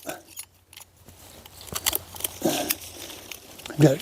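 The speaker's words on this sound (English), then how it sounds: "These vines right here are coming out of the rootstock, which they're not supposed to be doing. So what I'm going to do is I'm going to cut all these off." Pruning shears snipping grapevine shoots off the rootstock at the base of a vine, several sharp close snips and rustling leaves spread unevenly, with someone talking in between.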